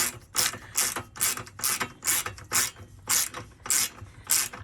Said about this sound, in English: Boring wrench scene.